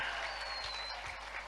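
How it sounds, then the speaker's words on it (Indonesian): Dense clapping from a crowd in a hall, steady and continuous throughout after a prayer recitation at a Sundanese comedy stage show. "Tepuk tangan."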